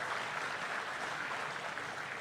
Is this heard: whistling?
no